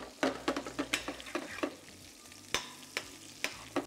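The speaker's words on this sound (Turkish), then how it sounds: "Keş peynirimizi yağda güzelce kızartacağız." Keş cheese fries in butter in a pan, with a steady sizzle broken by repeated close spoon scrapes and stirring clatter, no talking.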